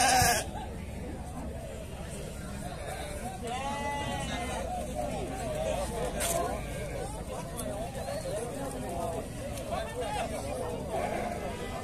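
Goats and sheep bleat intermittently at a livestock fair in Dois Riachos, Alagoas, amid crowd hubbub and people talking nearby.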